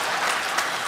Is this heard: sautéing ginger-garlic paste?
no